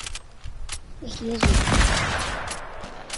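Sniper gunfire in an online shooter game, a loud sharp shot followed by a burst of crackling game noise, heard close and up front with faint excited chatter around it.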